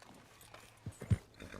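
Horse hooves clip-clopping in Red Dead Redemption 2, a few soft muffled thuds landing in an uneven stride over a faint background hum.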